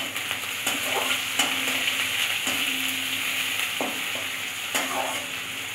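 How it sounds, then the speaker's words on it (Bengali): Chopped onion hits hot oil already tempered with cumin, bay leaves and whole garam masala, giving a steady close sizzle with repeated clinks and scrapes of a spoon stirring the pan. "আর পেঁয়াজ কুচনো দিয়ে দিচ্ছি।"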